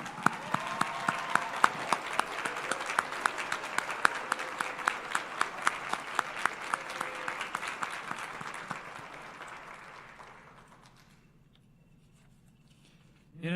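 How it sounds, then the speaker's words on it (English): A large crowd at a university commencement ceremony applauds its graduates in a long, sustained round of clapping with sharp distinct claps. The applause fades away after about ten seconds and near silence follows. "Please stand up and take a bow as we all applaud you."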